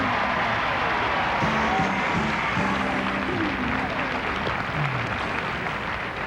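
Studio audience applause on the 1988 Wheel of Fortune game show, a steady even wash of clapping heard throughout, with faint music or voices mixed underneath.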